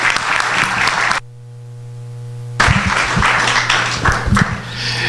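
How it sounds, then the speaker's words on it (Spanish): Applause from an audience at a university book launch in a law faculty hall, heard in two bursts broken by a stretch of steady tone, with broadband clapping at moderate loudness on either side. "Brindémosle un caluroso aplauso al doctor"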